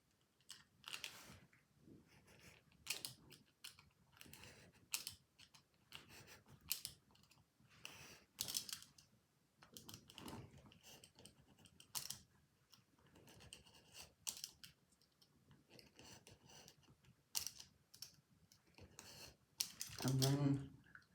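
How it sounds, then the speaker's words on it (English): A sharp scalpel scores and slices through acetate stencil sheets in a series of short, crisp scratching strokes, close and quiet, with brief pauses between cuts. "next I use a sharp scalpel to cut my stencils"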